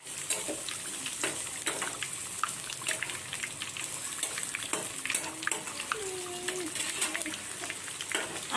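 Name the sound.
food frying in a pan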